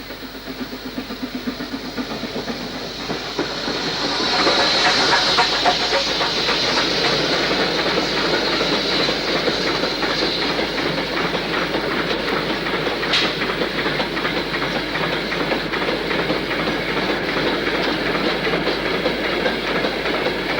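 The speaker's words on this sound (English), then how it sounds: "a Black 5 heads north to Shap" A Black 5 steam locomotive heads north toward Shap, its rumble and wheel clatter growing from a distance into a loud, sustained roar of rolling stock passing close by.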